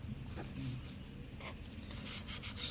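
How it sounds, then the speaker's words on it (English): Fine 600 grade sandpaper rubs old paint off a fog lamp housing in a steady scratchy rasp, with short strokes repeating close up and no talking. "So for this I am using a 600 grade sandpaper."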